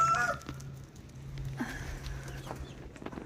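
Chickens, including dark and buff Brahmas, cluck and call in a backyard coop with a chicken tunnel, close and fairly loud over a steady low hum.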